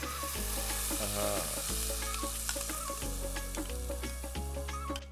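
Ghee tadka with yogurt and ginger-garlic paste sizzling in a warming pan for a royal dal tadka, a steady close frying hiss with stirring scrapes throughout, faint background music underneath.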